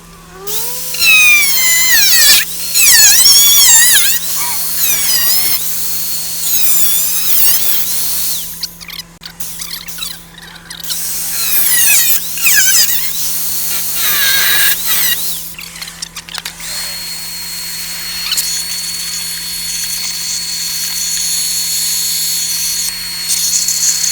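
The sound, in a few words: power tool cutting rusty metal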